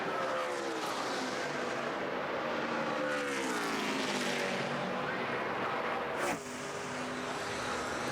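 NASCAR stock cars roar down the front straightaway at the Indianapolis Motor Speedway during the 2012 Brickyard 400, a loud sustained engine howl with pitch sweeping as cars pass close, dropping off abruptly near the end.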